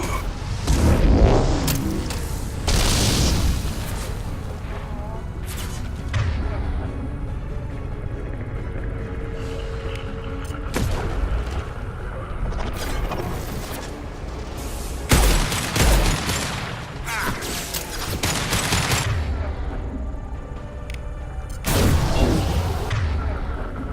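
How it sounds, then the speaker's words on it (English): Heavy impact shots fire in Mass Effect 2 during a tense confrontation with Shepard, a series of loud booming blasts with rumbling tails separated by quieter mechanical hum. "Firing an impact shot."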